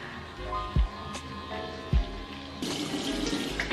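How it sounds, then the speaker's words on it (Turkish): A bathroom tap runs while a face is washed with a foam cleanser; the water starts partway through as a steady, close hiss after a few soft knocks and handling sounds. "Daha sonra Ave'nin köpük temizleyicisiyle yüzümü yıkayacağım."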